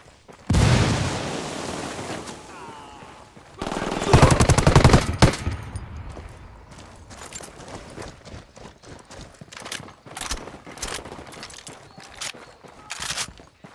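Heavy gunfire during an ambush in the video game Ghost Recon Wildlands: loud automatic bursts and booming blasts at first, then scattered sharp shots and crackling fire continuing at varying distances.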